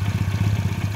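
A two-cylinder moped engine runs with a quick, even pulsing chug, each firing beat clearly separated in a rapid rhythmic throb heard close up.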